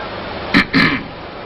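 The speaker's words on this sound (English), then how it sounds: "I clear my throat" Two quick throat-clearing grunts, close and fairly loud, over a steady background hiss.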